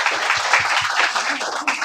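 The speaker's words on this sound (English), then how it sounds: "let's give him a round of applause" An audience at a Hacker Dojo tech meetup claps steadily, a dense patter of hands filling the room at close range for a couple of seconds.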